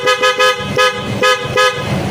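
Dual-contact loud horn on a Honda ADV 160 scooter sounding in five short, loud, blaring toots in an uneven rhythm, close up with no talking.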